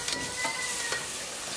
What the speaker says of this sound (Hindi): इसे अब हमें 1 मिनट तक ही भूनना है स्लो आंच पे।